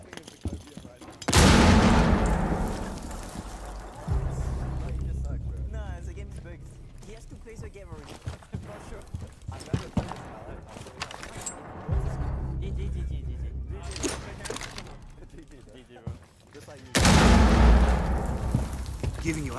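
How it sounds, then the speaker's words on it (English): A frag grenade blast and gunfire in a Rainbow Six Siege esports match: two heavy booming bursts at the start and end with rattling shots between, while voices talk over the action. "Frag grenade is hot."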